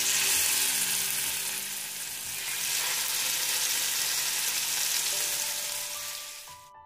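Chicken shallow frying in oil in a cast iron pan over a medium flame, a loud, steady broadband sizzle that holds throughout and fades slightly at the end, with no talking.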